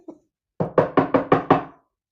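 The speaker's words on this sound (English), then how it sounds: "A knock at the door." Six quick, evenly spaced knocks on a wooden door, loud and close, come after a faint single tap and then stop.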